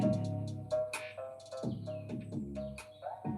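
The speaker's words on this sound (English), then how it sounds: "Hear the birds in the background?" Birds chirp in the background with quick, bright, repeated tweets scattered throughout, partly masked by a steady low tonal drone and a held mid-pitched hum.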